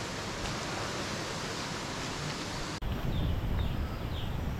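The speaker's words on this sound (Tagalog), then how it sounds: "Malakas-las ng sapa yung maririnig natin." A loud stream rushes at an eco park with waterfalls in Sta. Maria, Laguna, producing a dense, steady roar of flowing water, with a brief cut midway and faint bird chirps above the noise.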